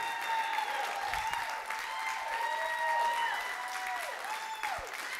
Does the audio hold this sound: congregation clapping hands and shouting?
yes